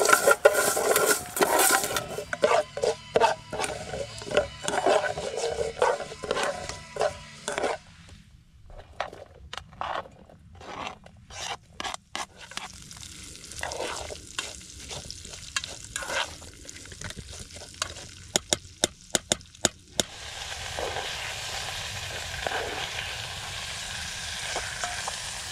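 Onions frying with mustard seeds in a pan on a Trangia camping stove, with a steady sizzle, stirring scrapes and clicks, and a quieter stretch in the middle before the frying swells again.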